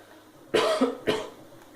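Two quick, sharp coughs in close succession, near and fairly loud, against a quiet background.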